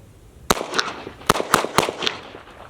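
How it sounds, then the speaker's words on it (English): Several sharp, loud handgun shots ring out nearby in an uneven series, with the first shot fired double action and the rest single action. "So I can pull the gun and shoot it."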